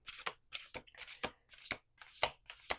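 Tarot cards are shuffled by hand in a steady rhythm, six or seven crisp riffling bursts at close range with short pauses between them and no speech.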